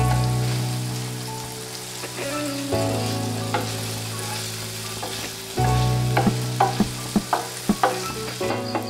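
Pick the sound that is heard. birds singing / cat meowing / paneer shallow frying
paneer shallow frying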